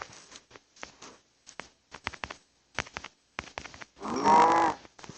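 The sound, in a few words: cow mooing in the video game Minecraft Pocket Edition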